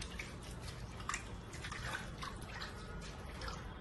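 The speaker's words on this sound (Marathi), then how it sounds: "भाजी चांगली जरा हाताने अशी हलक्या हाताने ही चोळायची आहे" Fenugreek greens being rubbed gently by hand in a bowl of water to loosen soil, giving soft continuous splashing and dripping, steady and close, with no talk.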